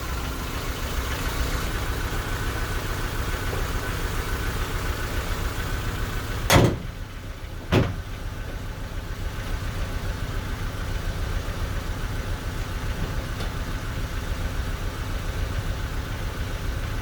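A 1987 Honda CRX DX engine idling steadily without choke, a constant low mid-pitched hum, with two brief sharp clicks or knocks partway through.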